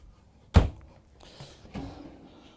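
A soft-close pull-out drawer in a 2022 Renegade Classic motorhome gives one sharp thunk, then a couple of fainter settling knocks as it eases shut, heard alone in a quiet interior.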